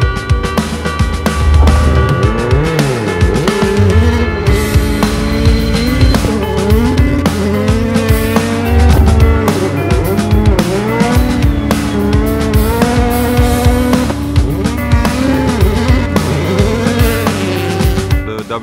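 A Hyundai i20 WRC rally car engine roars at high revs, pitch rising and falling through gear changes, with tire squeal and loud continuous motor noise throughout.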